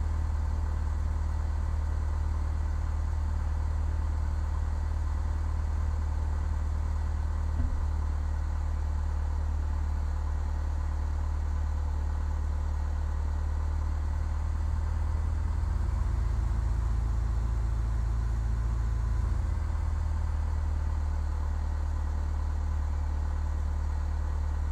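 Aircraft engines idle in the Microsoft Flight Simulator FSX video game: a steady, loud low drone with a slight rhythmic throb throughout, briefly shifting pitch partway through, with no speech.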